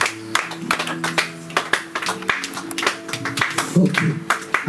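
A church congregation claps together in praise of the Lord, a dense run of sharp hand claps with an irregular, lively rhythm over faint background music, steady and fairly close throughout.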